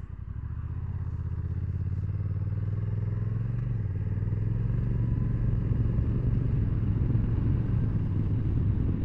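A Honda NT1100 DCT motorcycle engine hums steadily while riding, as a loud, continuous low rumble that builds slightly as the bike pulls along, alone without talk.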